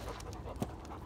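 A big dog, a Chinese breed mix, pants steadily and close by in a short burst of rapid breaths, with no talk over it.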